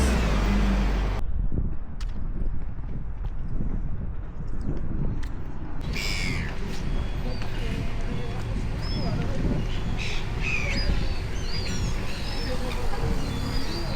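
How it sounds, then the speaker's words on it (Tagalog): Birds, crows among them, call in short scattered outbursts after a muffled stretch, sounding moderately near over steady outdoor traffic and street noise. "Dami ibon"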